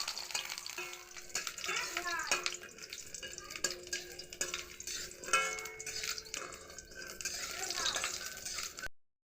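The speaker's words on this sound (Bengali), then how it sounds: "আমি একটু লাল লাল করে ভেজে নিয়েছি" Elephant foot yam pieces fry in hot oil until reddish, a steady sizzle with scattered clinks and stirring scrapes throughout, the sound close and fairly loud.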